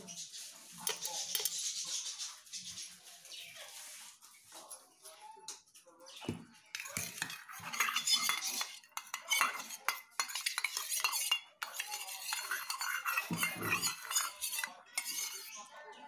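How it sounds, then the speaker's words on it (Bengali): A spoon stirs biryani food colour into a little water in a small bowl, giving quick, close metallic clinks and scrapes in uneven bursts, with a brief pause partway through. "এটা আমি একটুখানি জল দিয়ে মিশিয়ে নেব"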